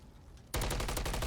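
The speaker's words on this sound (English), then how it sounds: "A few more shots ringing out." Gunfire in a competitive shooter video game finals match: after brief quiet, a sudden loud burst of rapid automatic shots rattles on continuously at close range, with no voices over it.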